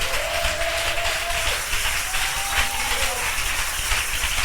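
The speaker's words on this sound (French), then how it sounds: "On donne une acclamation au Seigneur." A church congregation claps in acclamation of the Lord, a steady dense patter of many hands filling the room, with sustained voices or tones rising faintly above the clapping.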